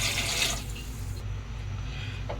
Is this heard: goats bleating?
no